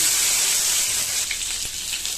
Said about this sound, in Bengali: সব মাছগুলো ভেজে নেব।